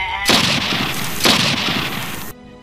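Two loud gunshot blasts, each with a booming echo and a long rumbling tail, sound about a second apart in an aswang horror story scene, followed by quiet.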